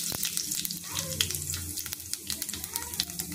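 Cumin seeds frying in hot oil, a crackling sizzle with scattered sharp pops, close but fairly quiet.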